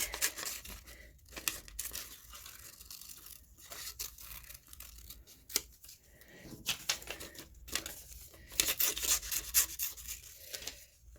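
Paper pages for a color book being cut out, with close, quiet scissor snips, rubbing and crinkling of paper in irregular bursts, no voice.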